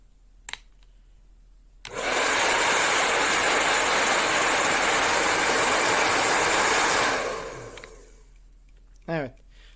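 A Gamma Piu 3300 hair dryer starts abruptly and blows with a loud, steady rushing roar for about five seconds, then winds down. Brief clicks come before and after.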